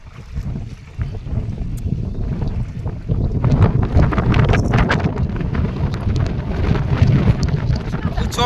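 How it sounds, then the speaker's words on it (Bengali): Strong wind of a nor'wester storm buffets the microphone in loud, continuous gusts beside a small river, with a rough rumbling roar that builds after the first few seconds. "প্রচন্ড হাওয়া আজকে"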